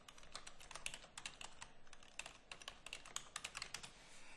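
Rapid typing on a computer keyboard, a steady close patter of crisp key clicks with no talking.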